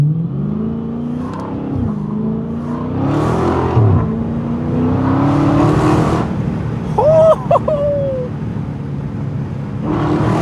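A 2020 Dodge Scat Pack with straight-piped exhaust revs hard and close, with repeated loud roaring surges and drops in engine pitch, harsh and raspy throughout.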